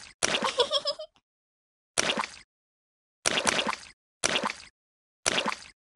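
Splashing in muddy puddles in a Peppa Pig video game: five wet, plopping bursts, each about half a second long, separated by short silences and fairly loud and close.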